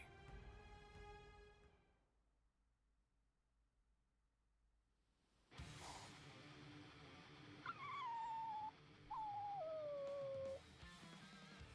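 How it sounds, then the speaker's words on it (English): A dog in Bleach: Rebirth of Souls howls in a drawn-out, wavering cry after a fading musical tone and a hush, rising and falling over a bright, noisy backdrop. "some soldiers might be picking on a dog, too"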